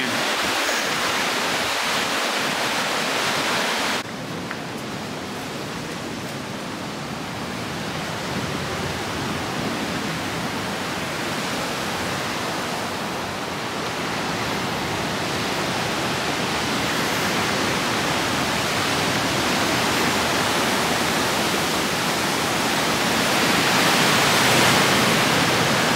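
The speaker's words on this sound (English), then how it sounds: "The waves here are absolutely massive." Large ocean waves crash steadily onto a beach in Bali, a loud, continuous roar of surf building slightly toward the end, with no talking.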